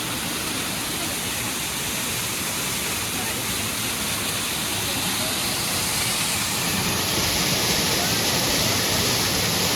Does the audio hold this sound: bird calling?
no